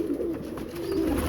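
Red-eyed dub pigeons in a breeding pair for sale in Faisalabad coo close by in soft, low, throaty phrases, two rolling calls in quick succession with no talking.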